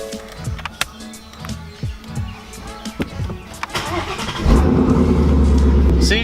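A Ford Mustang engine fires up via a push button start after a GT350-style start button install, with a short crank then a loud, close, rumbling idle, following scattered clicks and handling noises and brief talk.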